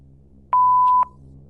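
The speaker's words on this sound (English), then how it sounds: "leave a message after the tone." An answering machine sounds its voicemail tone, a single clean electronic beep lasting about half a second, loud and isolated against a faint low hum.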